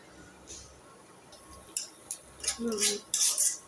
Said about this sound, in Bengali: আমার আম্মু তেলের ভিতরে পেঁয়াজ দিয়ে দিয়েছে, এখন ভালো করে নাড়তেছে।